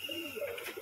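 A roller pigeon gives a brief, soft coo close by, with a voice faintly present.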